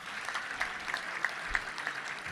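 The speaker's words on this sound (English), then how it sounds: "Let's give a round of applause for that at the end." An audience at a touchdown club luncheon applauds, light scattered clapping at moderate distance, somewhat thin with individual claps standing out, continuing through the short stretch.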